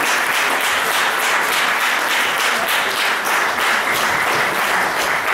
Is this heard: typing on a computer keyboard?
no